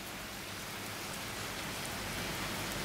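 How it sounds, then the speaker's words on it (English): Steady, soft rain pattering continuously on Santorini, a dense even hiss of drops with no voices, close and fairly quiet throughout. "I love the pitter-patter of soft rain."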